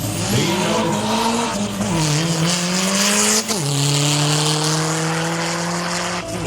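An Audi diesel car accelerating hard at a Latvian drag race event, loud engine tone climbing through gear changes with a brief tire squeal, close and continuous with no talk.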